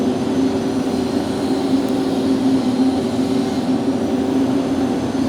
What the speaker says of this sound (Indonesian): Blower nyala, jet fan bernyala,